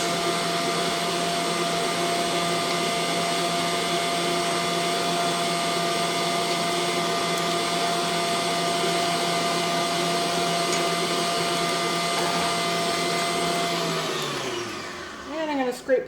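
An electric mixer whirs steadily and loudly while blending muffin batter, holding one even motor tone for a long stretch before winding down and stopping near the end.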